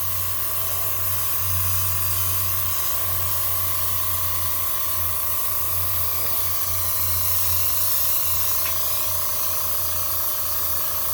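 A paint spray gun hisses steadily while applying white paint to a 1996 Cadillac Fleetwood lowrider, a loud, close, continuous spray with a low compressor hum underneath.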